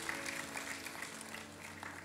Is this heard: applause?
yes